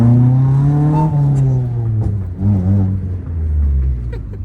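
A car engine started after three years unused revs loudly and close, a deep rumbling drone that rises and dips through several throttle swells without talk.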